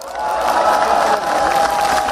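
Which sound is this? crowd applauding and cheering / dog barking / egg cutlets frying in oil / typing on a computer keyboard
crowd applauding and cheering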